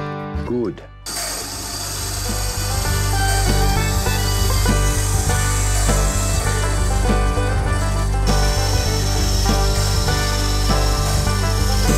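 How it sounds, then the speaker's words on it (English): Band saw cutting bone for a carved weaving shuttle, a loud, steady mechanical whine with a rough buzzing grind running continuously after a brief start-up. "All the band sawing."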